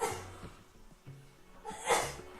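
A single sneeze bursts out near the end, preceded by a sharp inhale and faint breathy sounds, close and fairly loud.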